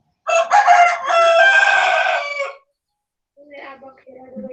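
A chicken about to lay an egg clucks and squawks loudly and close by in a long burst, then after a short pause a quieter call follows.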